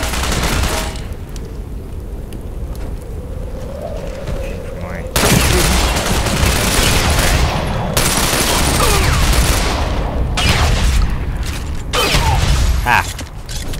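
Shotgun fire in the online shooter Ghost Recon Online: loud blasts and bursts of gunfire with mechanical clatter, the heaviest shots landing in the second half over a steady background of game noise.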